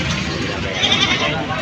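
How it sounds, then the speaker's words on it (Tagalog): A goat bleats amid the bustle of a livestock market, its wavering cry partly buried under nearby chatter and crowd noise. "Ayan o ang kambing."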